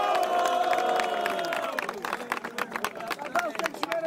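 A crowd at a rap battle cheers and claps. Dense hubbub and voices give way to bursts of scattered applause, with someone talking over the noise.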